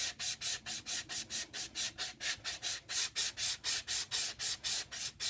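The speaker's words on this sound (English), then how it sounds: "Now I will go back and I will sand the edges like this." Edges rubbed with 220 grit sandpaper in quick, even back-and-forth strokes, about three per second, each a close, rasping swish, with no talking.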